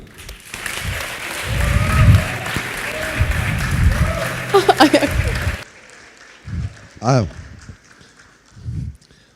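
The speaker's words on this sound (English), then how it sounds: "with a big round of applause, Melih Özkan" An audience at a TEDx talk applauds to welcome a speaker, clapping for about five seconds amid low crowd noise before it cuts off, followed by scattered sounds and a nearby voice.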